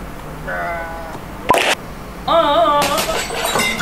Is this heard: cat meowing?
no